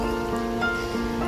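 Hot water poured steadily into ragi flour for porridge, a continuous close liquid splash and gurgle that stays even and fairly loud throughout the short pour.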